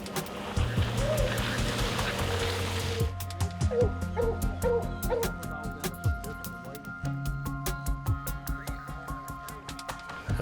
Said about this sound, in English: Sounds like the dogs have caught up with the bear. They're baying him.